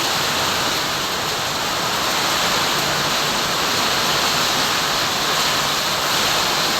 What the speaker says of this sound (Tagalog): walang tigil pa rin po yung ulan